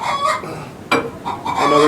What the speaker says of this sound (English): You gotta compete with the chicken who wants to lay an egg over here in the corner.